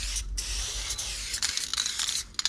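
Close, hissing bursts from a spray paint can laying down a graffiti fill, long sprays broken by short pauses and faint rattling clicks of the nozzle.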